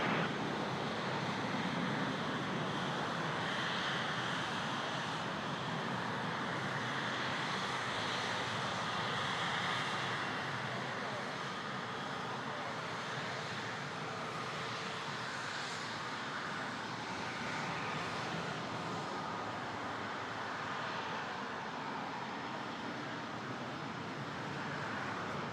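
A FedEx heavy jet takes off from runway 23 at Toronto, its engines a steady, broad roar that holds throughout, moderately distant with a wind-like wash.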